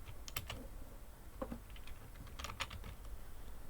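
Quick clicks of typing on a computer keyboard in short bursts, close and fairly quiet, with a brief pause between runs and no voices.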